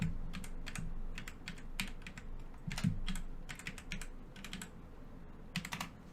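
Rapid bursts of clacking keys on an unfamiliar computer keyboard, typed in short irregular runs with brief pauses between them, close and clear over a low background hum.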